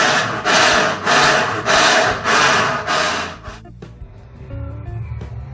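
A Consul Maré washing machine gives off a strange, loud noise: about six rhythmic rasping, scraping surges at a steady pace. It then drops to a quieter mechanical rumble with faint clicks.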